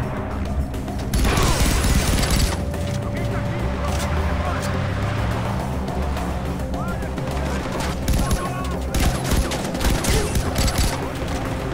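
Sustained automatic gunfire in Far Cry 4 during a clash with army troops while driving, loud and dense bursts running almost continuously alongside engine noise and someone talking.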